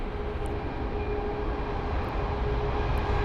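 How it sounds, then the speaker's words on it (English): A departing Airbus A380 airliner at London Heathrow makes a distant, steady jet engine roar that holds at an even level throughout, with no voices. "So there's the first of the A380s that's going to be departing"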